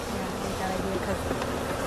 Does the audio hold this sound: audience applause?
no